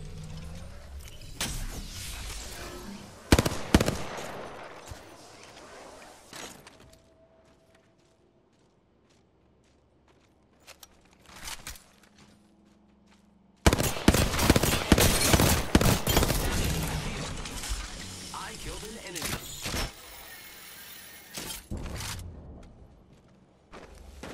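Gunfire in the Apex Legends video game: bursts of rapid shots with footsteps and mechanical clatter, a quiet lull in the middle, then a long, loud stretch of sustained firing.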